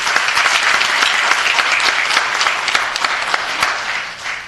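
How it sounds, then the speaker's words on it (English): A city council meeting audience gives volunteers a round of applause for their humanitarian holiday effort, a loud, dense burst of many hands clapping that holds steady throughout before easing off slightly at the end. "let's give all these folks a round of applause"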